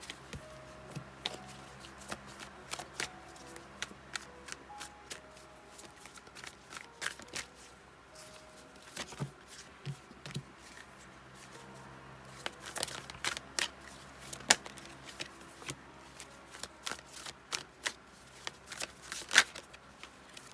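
Crisp riffling and snapping of tarot cards being shuffled repeatedly at close range, with irregular bursts of clicks and soft slaps, no talking.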